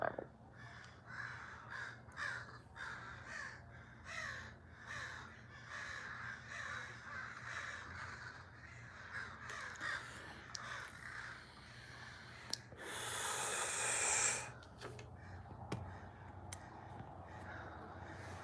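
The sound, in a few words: crows cawing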